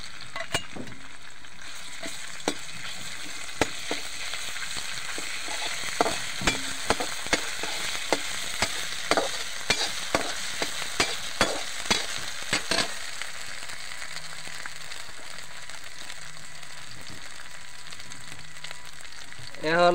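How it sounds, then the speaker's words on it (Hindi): Onions fry in a hot kadai with a steady, close sizzle, broken by a run of sharp clicks and scrapes from stirring, before the sizzle settles back to an even hiss. "कढ़ाई गर्म हो गया, प्याज डाल देते हैं।"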